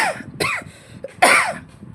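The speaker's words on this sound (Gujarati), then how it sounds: "હજી ઉધરસ આવે જો." A person coughs close to the microphone, with two or three short, harsh bursts spread over a couple of seconds against a quiet background.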